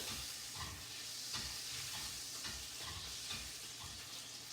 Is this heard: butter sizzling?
yes